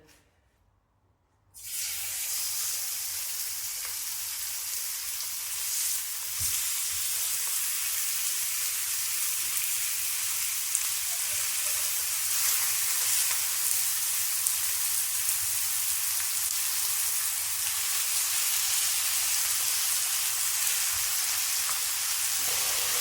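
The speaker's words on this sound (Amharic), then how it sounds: "በጋለው ድስት እንጠብሰዋለን" Marinated chicken, oiled and salted, goes into a hot pan and sizzles; after a brief quiet start a steady, loud hiss of frying fills the rest, close and continuous with no talk.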